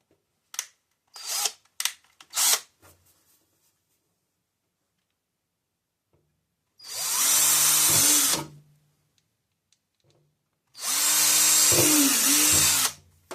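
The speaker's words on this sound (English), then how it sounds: "we're going to drill the holes right where you see them here" A power drill whirs in two sustained bursts of a few seconds each while drilling holes in a wooden kitchen drawer, separated by quiet, after some brief clicks and handling knocks.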